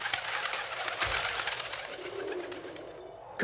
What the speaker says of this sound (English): Hey, stupid birds! Get out of here! Damn pigeons,